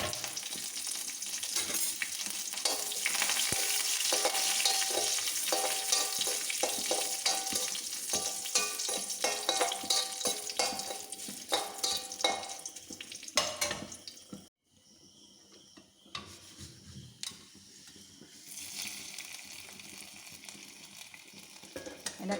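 Dried red chillies and curry leaves sizzling in hot oil while tempering a Kerala pineapple curry: a loud, dense crackling sizzle that drops sharply partway through, then continues more quietly and evenly.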